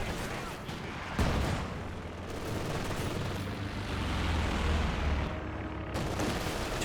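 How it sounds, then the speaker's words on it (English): Mortar shells and distant gunfire in the Company of Heroes 2 strategy game, striking infantry conscripts; a steady rumble of battle with a couple of sharper bursts, moderately loud throughout. "Mortar hitting the conscripts, forcing them back."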